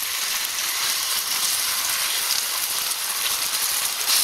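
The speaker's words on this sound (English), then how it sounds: "throw the steak on" A steak sizzles steadily in a hot pan, a dense, even hiss of frying fat that stays loud and constant throughout, with no talking over it.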